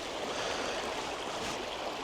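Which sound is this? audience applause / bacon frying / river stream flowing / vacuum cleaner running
river stream flowing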